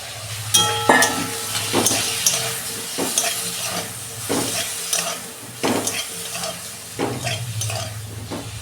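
Cauliflower frying in a little oil in a wok, a steady close sizzle broken by repeated scrapes and clinks of a spatula stirring the pieces, no voices.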